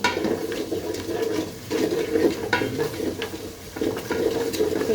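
Onions being stirred as they fry in a pan for shahi bhuna khichuri, with repeated scraping, clinking strokes in uneven bursts over a steady low sizzle, close and moderately loud.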